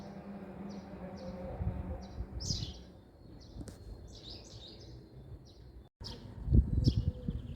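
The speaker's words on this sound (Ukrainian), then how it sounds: "Послухайте, як пташки тут щебечуть" Small birds chirp in short repeated bursts outdoors in spring, fairly faint, over a low background rumble.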